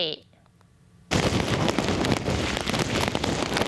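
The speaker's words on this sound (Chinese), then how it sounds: "屏东恒春是透大风又上大雨" Loud, roaring typhoon wind of force 9 to 10 with heavy rain bursts in suddenly after a quiet moment at Hengchun, Pingtung, Taiwan, and stays dense and continuous.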